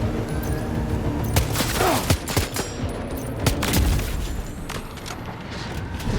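Gunfire at an enemy base in the video game Death Stranding 2 cracks out as repeated sharp shots and bursts spread across several seconds, fairly loud, over a busy game background.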